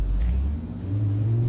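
A Honda Civic in a Roblox game rumbles with a steady low engine drone, close and even for a moment, briefly dipping then holding, with no voices.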